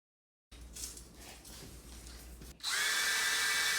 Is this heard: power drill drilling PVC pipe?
yes